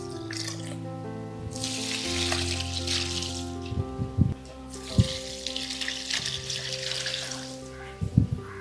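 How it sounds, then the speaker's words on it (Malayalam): Liquid fertilizer made from kitchen waste, including coriander stems, poured at the base of aloe vera plants: a close, gushing splash in two long pours, with light knocks and clunks between them and no talking. "ഇനി നമുക്ക് ഓരോ ചെടിയുടെ കടയ്ക്ക് ഒഴിക്കാം"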